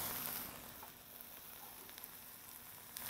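Chickpeas and chorizo sizzle steadily in a hot pan as they are stirred in, with breadcrumbs to follow. A continuous, even hiss with faint crackles runs throughout and no one talks.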